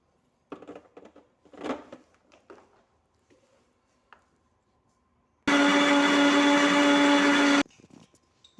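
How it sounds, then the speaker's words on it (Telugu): A kitchen mixer grinder grinds masala spices in a loud, steady whir lasting about two seconds, preceded by faint clinks and handling noises and followed by a quiet clatter. "ఈ ఆయిల్ వేడెక్కే లోపల మసాలా గ్రైండ్ చేసుకోవచ్చు."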